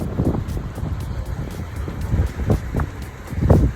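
Gusty wind buffets the microphone in uneven bursts aboard a sailboat on the Ionian Sea, with a low rumble of moving water and hull noise underneath.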